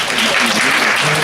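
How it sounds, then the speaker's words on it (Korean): A burst of audience applause welcoming a presenter at a mobile security conference, loud and close, with clapping blurring into a continuous roar over the short moment. "큰 박수로 환영 부탁드리겠습니다"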